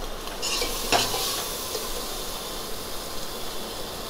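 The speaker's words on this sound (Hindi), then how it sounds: "उसको अच्छे से भूनेंगे हम, जब तक ऑयल सेपरेट नहीं हो जाता" Masala frying in oil in a pan for a chicken dish, a soft continuous sizzle with a brief spoon clink and stirring scrape near the start, fairly quiet and close, no talk.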